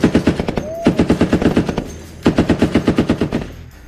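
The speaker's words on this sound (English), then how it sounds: "we had a fun day of shooting" A machine gun aboard a Navy destroyer fires during a weapons pre-fire check: two loud, close bursts of rapid rhythmic shots separated by a short pause.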